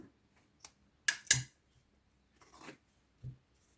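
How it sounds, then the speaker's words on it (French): Scissors snip through crochet yarn at the end of an amigurumi snake project: two quick, close cuts in a quiet room, with a few faint handling clicks and rustles around them. "Je vais couper le fil."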